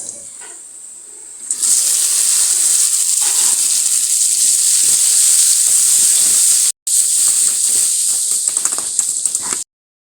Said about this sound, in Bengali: ঢেঁড়স ভাজি করবো